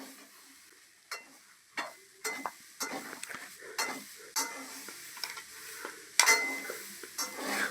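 Boiled potatoes pressed with a masher in a bowl, a series of soft, irregular squelching thumps and scrapes spaced about every half second, close and fairly quiet.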